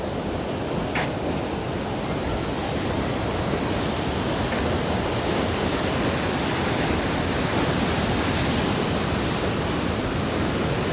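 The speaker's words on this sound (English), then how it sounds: "Yeah, the waves look nice." Ocean waves at La Jolla Cove, San Diego, a broad continuous wash of surf rolling in at a steady loud level with no distinct individual breaks and no voices.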